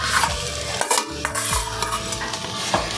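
Grated potato being mixed into frying beetroot and carrot in a pan for vegetable chops, a dense close sizzle overlaid with repeated scraping strokes of a spatula, loud and busy, with no speech.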